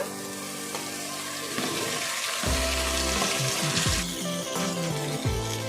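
Boiled broad beans (flat beans) drop into hot oil tempering with curry leaves, setting off a steady, loud frying sizzle with bubbling and a few low clanks of the pan, no voices.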